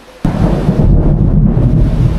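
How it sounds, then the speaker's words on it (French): A sudden loud crack of thunder breaks in, then becomes a deep, sustained rumble that rolls on close by, during a storm in South Africa. "mais vous entendez l'orage?"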